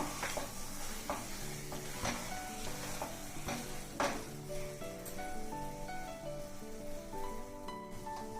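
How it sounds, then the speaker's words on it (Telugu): Wheat flour halwa with fried cashews is stirred in a pan, giving soft scraping strokes and a low sizzle that continue steadily under background music. "జీడిపప్పు కలిపి ఒక్క నిమిషం అట్లా వేగనిద్దాము హల్వాని బాగా కలుపుకుందాం"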